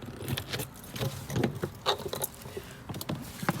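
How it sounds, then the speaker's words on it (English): A ring of keys jangles in bursts of light metallic clinks and rattles while the side hatch of a 2018 teardrop camper trailer is unlocked, fairly quiet and close, with no voices. "using these keys, find the key called panel, and open the side hatch here"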